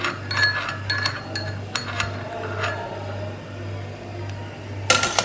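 A spoon clinking repeatedly against a glass while stirring turmeric ginger tea with honey and lemon, giving sharp, bright taps in irregular bursts over a low steady hum, close by.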